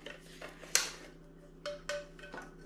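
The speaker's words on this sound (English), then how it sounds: "So you got the pan, frying pan." GONEX lightweight camping cookset frying pan being handled, a few sharp metallic clinks and taps scattered over a couple of seconds, close and fairly quiet.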